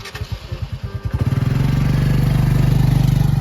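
A motorcycle engine putters in uneven pulses, then revs up into a steady, loud drone as the bike pulls away close by.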